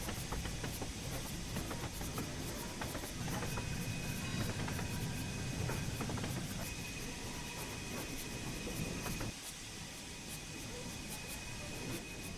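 A train moving in the Train Sim World 3 simulator during coach shunting at Edge Hill, with a steady rumble, hiss and rolling rail noise, loud and continuous, easing slightly near the end.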